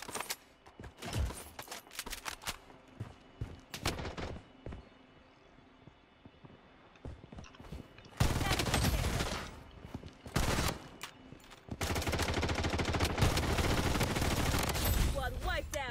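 Rapid bursts of gunfire from the video game Project Blood Strike, with scattered shots early on building into loud, sustained automatic fire in the later seconds, heard close and dense.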